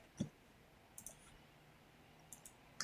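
Sharp single clicks from a computer mouse land a few times over a quiet background, spaced irregularly, with a double click near the end.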